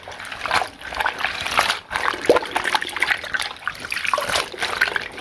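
Small hair accessories from 1990s mermaid dolls are washed by hand, with continuous close trickling, sloshing and light splashing of water throughout.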